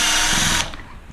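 A power tool whirs briefly while removing bolts from an MGI Zip Navigator golf trolley gearbox motor, a short high buzzing run that cuts off abruptly.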